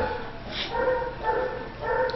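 A small dog formerly used as a bait dog gives soft, high whimpers and short yips in two or three bursts, fairly close, over a steady background hum.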